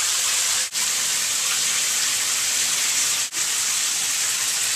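Steady broadband rush of shower water running continuously and fairly loud, briefly cut off twice by short dips, with no talking.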